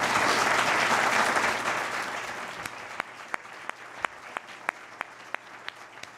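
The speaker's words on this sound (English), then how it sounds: "join me in a round of applause for our faculty and staff at Columbus State" A banquet audience gives a round of applause for faculty and staff at Columbus State. The applause is thick at first, then thins out to a few lone, sharp claps spaced about half a second apart.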